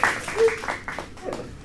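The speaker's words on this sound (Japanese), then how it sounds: "拍手ありがとうございます。" Comedy show audience giving brief applause for a stand-up routine, scattered clapping that rises and fades quickly, with a performer's voice partly over it.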